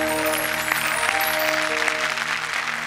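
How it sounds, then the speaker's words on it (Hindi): Audience applause welcoming a guest poet on a Hindi poetry comedy stage show, a steady dense clapping crowd filling the space throughout, with steady tonal hum beneath. "हम जोरदार ताली में स्वागत करते हैं कमलेश दवे का"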